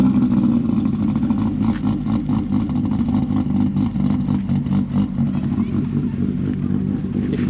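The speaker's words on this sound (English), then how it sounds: "I think we'll get Brett to fire his up just so you guys can hear the difference, because it's pretty extreme" A cammed Toyota JZX90 car engine runs nearby with a loud, lumpy, clattering idle that pulses unevenly throughout.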